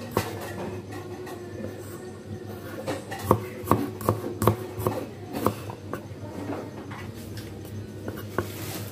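A kitchen knife cuts ginger on a board while cooking a minced beef and tofu stir-fry, giving a run of irregular, crisp close-up chops through the middle of the clip over a low steady hum.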